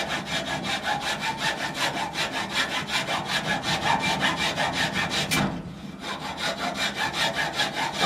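Hand saw cutting wood with quick, regular back-and-forth strokes, close and clear, pausing briefly midway before the rhythm resumes, with no talking.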